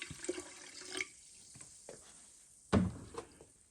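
Water splashes into a garden sprayer holding vinegar and baking soda, with a few soft pours and drips and one brief louder gush near the end.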